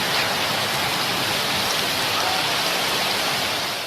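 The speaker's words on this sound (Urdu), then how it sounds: "لاہور میں گزشتہ رات بارش کی جو جھڑی لگی" Heavy rain pouring down in Lahore, a dense, steady hiss of drops striking the ground, loud and unbroken throughout with no voices heard.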